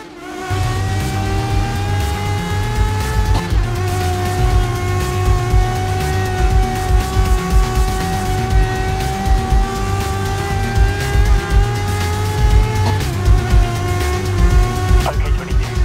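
Race cars roaring around a track in the video game Grid Legends on Xbox, loud steady high-revving engines with gear changes and whining tones throughout, close and continuous.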